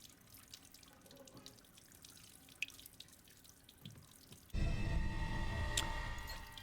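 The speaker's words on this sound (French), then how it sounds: "Ah, un robinet qui marche, dis donc." Tap running in the video game Resident Evil Village, a steady splashing stream of water that switches on abruptly partway through, loud and close after faint dripping ambience, with no talk.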